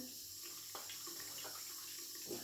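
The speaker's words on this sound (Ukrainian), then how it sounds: "Це я змиваю обличчя." Tap water running into a sink while a face is rinsed, a quiet steady stream broken by a few soft splashes and bursts.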